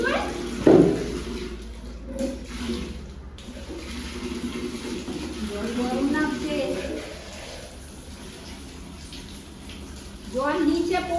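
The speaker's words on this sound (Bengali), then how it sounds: "জল নষ্ট হচ্ছে" Water is poured and splashes in uneven bursts during a bath beside a bent tap on a rooftop at night, with voices talking over it throughout.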